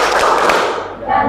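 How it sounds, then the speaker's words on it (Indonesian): A group performs the 'tepuk semangat' spirit-clap routine, a short, loud burst of close hand claps and thumpy slaps that briefly dips before another round of claps. "Tepuk semangat"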